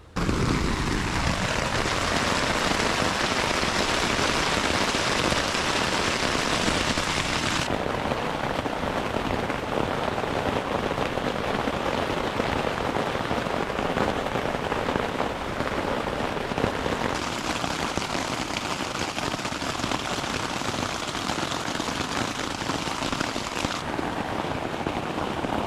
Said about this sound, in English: Hopefully the rain will stop.